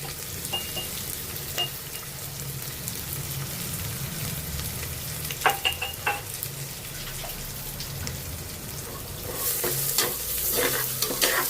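Crushed garlic fries and sizzles steadily in a pan for catering-style dal fry, a close, continuous crackle with occasional stirring scrapes and a brief louder hiss near the end.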